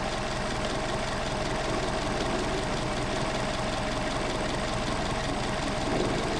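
A Mercedes 190SL engine fitted with Solex 44PHH carburetors idles low, just above 550 rpm, in a loud, continuous, even rumble with a faint knocking pulse throughout.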